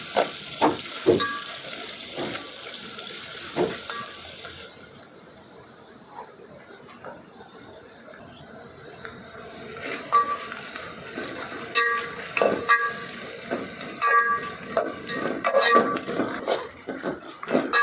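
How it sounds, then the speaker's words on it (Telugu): Onions frying in a pan with turmeric added, a steady sizzle with frequent metal spoon clatters and scrapes as they are stirred, close by, with no talking. "ఉల్లిపాయ వేగిందండి"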